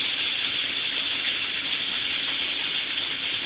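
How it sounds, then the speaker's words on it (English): Constant rushing of water pouring into a swimming pool skimmer, a steady loud gush with no breaks or voices. "The skimmer's filling up right now. See, it's making a lot of noise."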